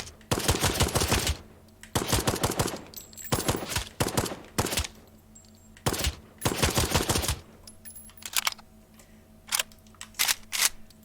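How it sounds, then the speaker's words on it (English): An AK-47 with a holographic sight fires in the VR game Triton VR, loud close bursts of rapid automatic fire alternating with short pauses, the later bursts briefer and choppier. "Now we have the AK-47. Now, I attached the holographic sight to make the weapon a lot easier to use."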